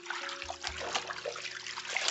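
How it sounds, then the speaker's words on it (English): A towel is rinsed by hand in a basin of water, giving soft sloshing and trickling with small splashes, quiet and close. "just dump this in and rinse it out like that"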